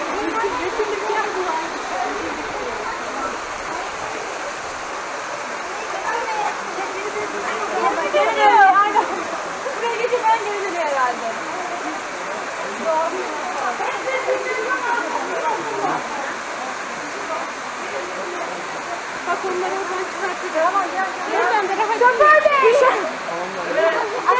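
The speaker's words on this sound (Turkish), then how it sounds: "6. şelaleye geldik." Water pours steadily over the Tatlıca waterfalls in a continuous broadband rush that swells slightly at times, with people's voices talking faintly over it.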